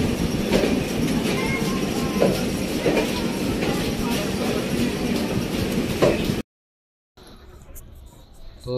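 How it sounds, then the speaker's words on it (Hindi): The Tejas Express from Lucknow passes close by with loud, rhythmic wheel clatter and rumble, then cuts off abruptly and returns as a quieter background. "ये देखिए लखनऊ से तेजस एक्सप्रेस आ रही है।"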